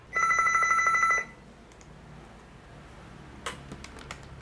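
A landline telephone rings once with a loud, bright electronic trill lasting about a second, followed by quiet room tone and a few faint clicks, as at a help-line office for immigrant women in Taiwan.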